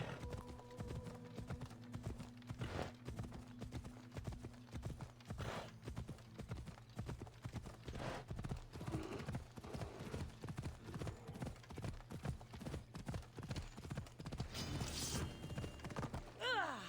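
A horse gallops in the Assassin's Creed video game, its hooves making a fast, steady clip-clop that runs throughout, with a few brief voice sounds in the background.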